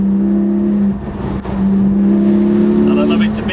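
Close, loud engine note from a Porsche 718 Spyder with a PDK gearbox on a road drive, a steady hum that briefly dips before swelling back up and holding firm.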